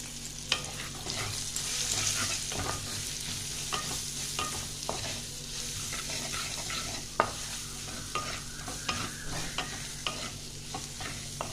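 Cumin, coriander and chilli powder with chopped green chillies lightly frying in a pan for masala dosa filling, a continuous soft sizzle broken by occasional spatula scrapes, close but quiet.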